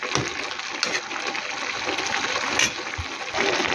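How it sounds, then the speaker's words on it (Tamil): Water gushes and splashes steadily into a pot of cooking lentils and greens, a loud, continuous pour with brief sputters and no voice over it. "இன்னும் கொஞ்சம் கூட தண்ணி சேர்த்துக்கலாம்"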